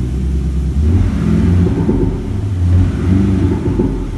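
A Toyota Camry fitted with a THOR active exhaust mimics a Mercedes C63 engine, giving a loud, steady low rumble with slight swells in revs heard close up.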